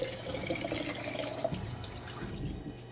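Water runs steadily into a container to rinse quinoa, a continuous close splashing pour that eases off near the end.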